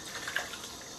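Hot water runs from a tap while someone shaves with a Feather blade in an adjustable safety razor. The stream is a soft, steady splash heard up close for about a second, with no speech.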